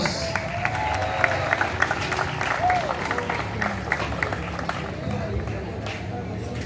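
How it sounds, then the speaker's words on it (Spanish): An outdoor crowd at a food festival in a park in Santiago Nonualco applauds steadily, a dense clatter of many hands, with chatter and a speaker's voice running underneath. "Elsa Mejía, fuerte los aplausos"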